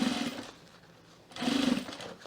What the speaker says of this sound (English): you just want to sew the facing around the perimeter of the top of your cocoon with the 1/4 inch seam allowance